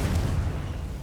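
A Confringo blasting spell explosion in the video game Hogwarts Legacy, a dense, rumbling boom that fills the moment and fades slowly, heavy and close.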